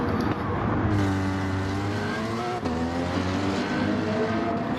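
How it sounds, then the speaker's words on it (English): A light, powerful race car engine roars steadily at close range through the turns, its pitch rising and falling as the driver works the throttle on a training day at the track. "Car definitely not short of power, and with it being so light, it's very, very good through the turns."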